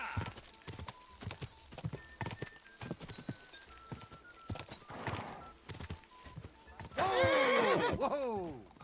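Horse hooves clip-clop at a gallop in Kingdom Come: Deliverance II, steady rhythmic hoofbeats under scattered talk, ending in a loud, close neigh.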